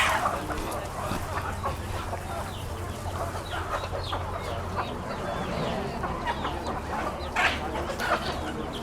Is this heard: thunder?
no